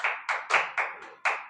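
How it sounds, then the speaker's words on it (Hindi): Students in a Class 9 mathematics lesson clap for a classmate, six distinct close bursts of hand claps in a quick, slightly uneven rhythm, with no talk over them. "ताली बजाओ बच्चे के लिए,"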